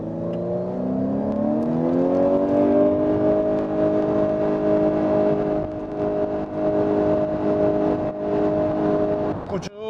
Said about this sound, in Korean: 가속을 하면서 속도를 올려가네요